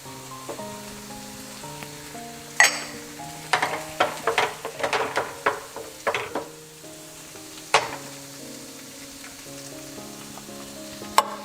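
Tomato paste cooks in oil with a steady crackling sizzle, broken by a burst of stirring scrapes and spoon clicks in the middle, close and clear over soft background music.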